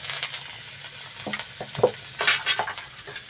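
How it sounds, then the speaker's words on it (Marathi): Spices sizzling and frying in a pan for Maharashtrian shev bhaji, a close steady crackle broken by a few soft stirring scrapes. "तर आता हे मसाले थोडा वेळ असेच तळून घ्यायचे आहेत"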